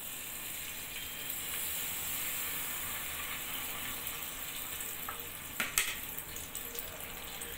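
Palm oil heating in a clean, dry pot for Ofada sauce gives a steady, close hiss and sizzle, with a few brief crackles and a clatter near the end.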